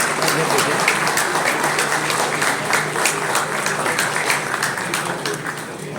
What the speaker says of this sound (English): can you please have a round of applause, please?